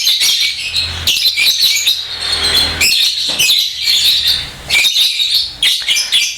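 A male lovebird chirps while being sunned, a loud, close stream of rapid, shrill twittering that runs almost continuously with only brief pauses.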